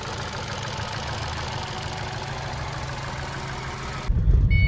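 The engine of a Ford Aspire car after flood damage runs with a steady, even drone, then a heavier low rumble surges in at the very end.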